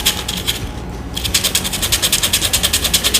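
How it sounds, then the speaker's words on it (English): Rough sandpaper scrapes the contaminated top layer off a brake pad removed from its caliper, a steady, close, rhythmic back-and-forth rasp of quick regular strokes with a brief pause near the start. "you can take a rough sandpaper and shave off the first top layer"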